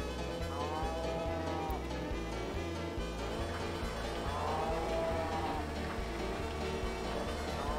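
Cartoonish cow moos in the racing game Choro Q Wonderful, drawn-out wavering calls repeating over a steady engine drone and looping music.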